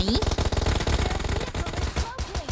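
Rapid automatic gunfire from a PUBG Mobile match, dense bursts of shots rattling steadily over about two and a half seconds, loud and close, with a game soundtrack and other layered effects running beneath.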